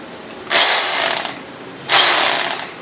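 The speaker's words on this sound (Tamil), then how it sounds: "அடுத்து வந்து ஹேமரிங் ஆப்ஷன்" Two short bursts of a hammer drill in hammering-only mode, each a harsh rattling buzz lasting under a second, with a low background hum between them.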